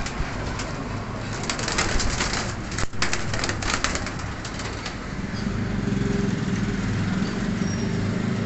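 Pigeons in a Faisalabad dealer's flock coo and rustle close by, with soft wing flutters and a sharp tap amid a dense, steady bed of bird noise.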